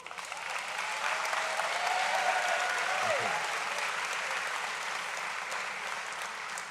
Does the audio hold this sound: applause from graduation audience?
yes